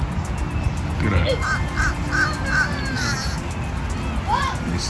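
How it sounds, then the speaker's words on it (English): Birds squawk by the water at a park, with several harsh caw-like calls repeating in quick succession over a busy outdoor background as someone talks nearby. "You see the birds, the other birds squawking and stuff"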